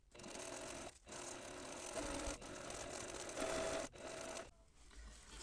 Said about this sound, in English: I'm going to sew that on just like I did before